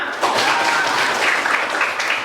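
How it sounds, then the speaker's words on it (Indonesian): A classroom of eighth-grade students claps together at the close of a religious education lesson discussion, a steady, moderately loud wash of applause lasting throughout with faint voices mixed in. "Tepuk tangan untuk kita semua."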